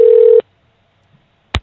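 Telephone dialing tones on a radio call-in line: a steady touch-tone beep lasting under half a second, then a pause and a short second click or tone near the end.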